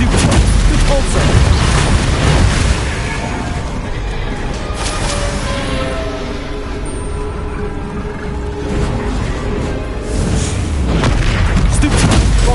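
Bombarda and other spell blasts in a Hogwarts video game boom heavily and continuously, with dense layered explosions and bursts rolling over one another, loud and close throughout.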